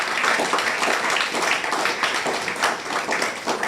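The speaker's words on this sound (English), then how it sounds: "I think our speaker deserves another round of applause." A crowd at a Constitution Day law school lecture applauds the speaker, steady and fairly loud clapping from many hands filling the hall without a break.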